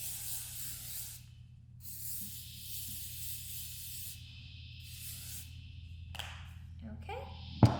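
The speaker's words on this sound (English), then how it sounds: "I'm gonna go ahead and spray all of my hair with this hairspray." Hairspray hisses from an aerosol can onto hand-tied hair extensions in a home styling session, several long steady bursts separated by short pauses, close and clear.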